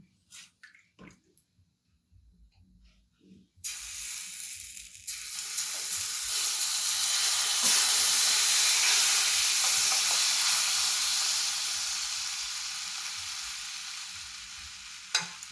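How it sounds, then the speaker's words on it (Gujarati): Jowar dosa batter spread thin on a hot griddle bursts into a loud, steady sizzle after a few quiet seconds, then hisses continuously up close and slowly eases off. "હવે એના ઉપર આપણે બેટર પાથરીશું."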